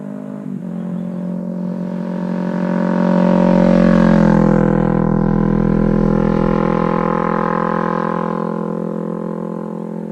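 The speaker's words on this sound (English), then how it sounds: "So I got a couple vids I'll do with the exhaust, driving by" Kawasaki Ninja 300 motorcycle running nearby, a steady twin-cylinder exhaust drone that swells in loudness as it passes, peaking mid-way and then slowly fading, with no talking.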